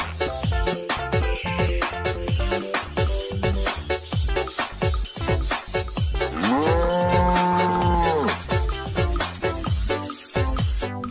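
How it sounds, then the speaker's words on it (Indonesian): A brown cow moos loudly once, a long drawn-out low call rising then falling, set against busy rhythmic background music. "ada hewan sapi warna coklat"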